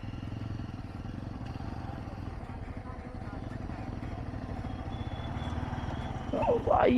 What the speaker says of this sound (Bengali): তো ভাই ওখান দিয়ে গাড়িটা নিয়ে বেরোচ্ছে।